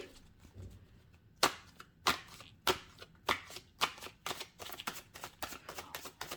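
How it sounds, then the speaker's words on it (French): Tarot cards riffled and handled in a close, quiet room: a run of sharp, crisp slaps and flicks, sparse at first and then arriving in a quick, even rhythm, with no voices. "je vais retirer une carte"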